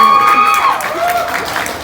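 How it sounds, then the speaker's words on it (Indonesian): Applause from an audience at a podcast session, loud close clapping that carries on steadily, with a tonal sweep fading out at the start. "Tepuk tangan dong."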